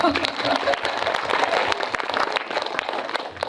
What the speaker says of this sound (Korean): 박수 한번 주셔야 될 것 같은데요.